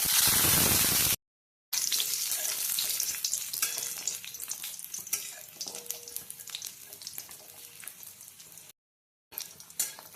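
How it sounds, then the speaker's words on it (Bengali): Steady crackling sizzle of dried lentil dumplings frying in hot mustard oil in a wok, close and continuous, with a couple of brief silent gaps. "এবার ডালের বড়ি ভেজে নেব।"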